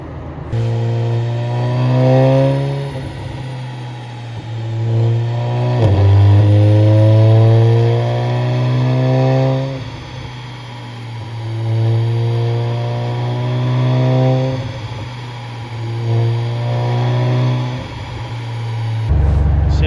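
Tuned Volkswagen Golf R making over 600 horsepower, running on an ethanol mix on a dyno, revving hard in repeated long pulls that climb and fall back, very loud and close, no talk.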